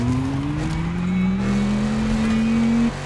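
A concept electric car in The Crew Motorfest racing game gives off a synthetic artificial drive sound, a loud sustained tone that rises steadily in pitch over about three seconds before cutting off abruptly.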